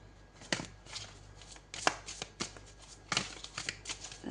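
Oracle cards being shuffled in several packets, a run of crisp riffling bursts and soft slaps in an irregular rhythm, close and fairly quiet, with no talking.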